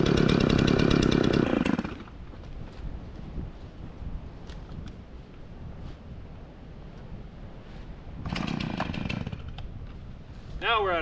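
A chainsaw cutting wood during tree felling and cleanup roars loudly up close in two bursts, one at the start and one near the end. Quieter, windy outdoor rumble fills the gap between them.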